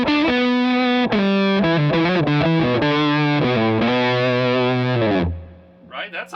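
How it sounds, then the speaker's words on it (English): Electric guitar played through a PedalPCB Raincoat DIY effects pedal, giving a thick, distorted, harmonically rich tone; a run of sustained, loud chords and notes for about five seconds, then a faint trailing bit of quieter sound. "Turn on the Raincoat."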